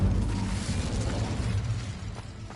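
The Incendio fire spell cast in Hogwarts Legacy: a rumbling, whooshing burst of flame with crackling debris, loud at first and then easing off, with no voices.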